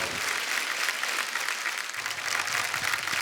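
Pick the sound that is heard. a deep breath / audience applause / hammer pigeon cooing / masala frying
audience applause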